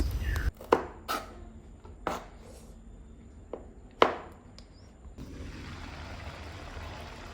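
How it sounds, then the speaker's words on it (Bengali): Onions and chillies being chopped on a board for cooking: about six separate, fairly close knife strikes at irregular intervals, followed by steady low background noise, with no talking. "এর মধ্যে কেটে নিচ্ছি রান্নার জন্য পেঁয়াজ ও মরিচ"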